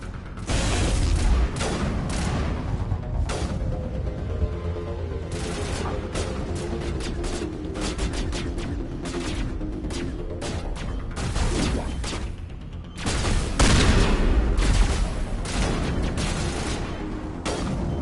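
Rocket launcher blasts and gunfire from the Mass Effect 1 Legendary Edition game, a dense, loud barrage of shots and booms running throughout with a heavier burst near the end.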